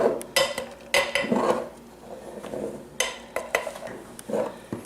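A metal spoon tapping and scraping flour around a greased tube pan, giving a series of sharp, irregular clinks and rattles close by, with soft shaking noises between the taps.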